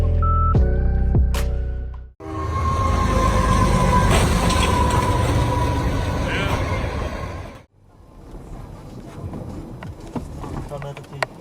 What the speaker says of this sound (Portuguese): Agora a locomotiva terá que ir atrás dos vagões que fugiram.